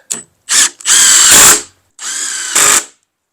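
A cordless power drill drives screws into a raised garden bed built from rot-resistant boards, with several loud close bursts of whirring motor and short pauses between them, and no talking.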